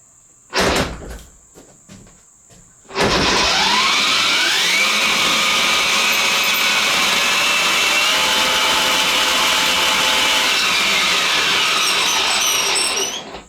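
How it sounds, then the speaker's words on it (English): Electric six-speed three-wheeler with its tires spinning freely and badly off balance: a few sharp clicks and knocks, then a motor winding up into a loud, sustained whirring drone with rising tones that holds steady until it cuts off at the end. "I just want to see the tires spinning, just to see what it looks like"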